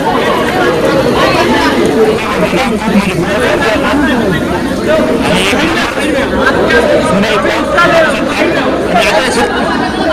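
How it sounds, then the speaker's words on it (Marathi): A large crowd of trekkers chatters steadily at the rain-soaked Harishchandragad temple, a dense, continuous babble of many overlapping voices close by with no single voice standing out. "इथे गर्दी पण बघू शकता खूप गर्दी झाली"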